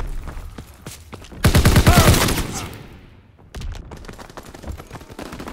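A loud, dense burst of rapid gunfire from a strafing run in a video game erupts mid-clip and lasts about a second. Quieter game sounds come before and after it.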